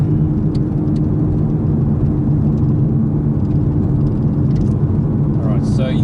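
A 2021 Toyota GR Supra GTS driving in sport mode gives a steady, low engine and road drone heard from inside the car, even and unbroken throughout.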